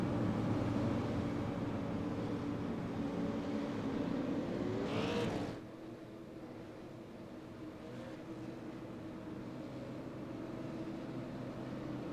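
Pace cars circle the Myrtle Beach track in the iRacing sim racing game, their engines a low, steady drone that drops off sharply midway and then lingers quietly in the background.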